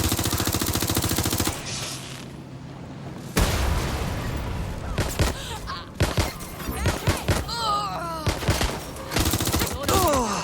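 Gunfire in the video game Watch Dogs Legion: rapid automatic bursts and sharp shots crack loudly in clusters, broken by brief pauses and some shouting voices.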